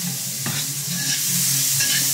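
Garlic and onion sautéing in a pan for tuna sisig: a loud, dense sizzle fills the whole clip, with a quick utensil tap and continuous stirring scrapes close by.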